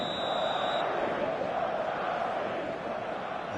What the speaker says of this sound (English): this place is living up to its reputation as one of the noisiest corners of the footballing world